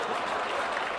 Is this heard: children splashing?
no